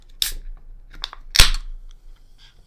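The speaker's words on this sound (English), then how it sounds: "So I'm going to go ahead and open this can." A can of mead being opened up close: a sharp metallic click of the tab followed by a louder crack and hiss, with small handling rattles around it.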